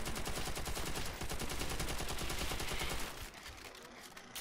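Rapid, continuous automatic gunfire aimed at zombies in World at War's Nazi Zombies mode, a dense steady stream of shots for about three seconds that then cuts off, leaving a quieter tail.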